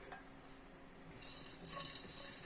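Whole cloves, cardamom, a cinnamon stick and a bay leaf are dry-roasted in a pan. The result is faint, soft stirring and scraping with a light crackle that rises slightly partway through, and no talk.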